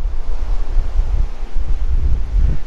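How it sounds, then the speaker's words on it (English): Strong wind gusting on a beach at Padre Island National Seashore in Texas, a loud rumbling buffet pressing against the microphone in uneven surges, close and continuous with no talk. "as you can see, the wind is blowing."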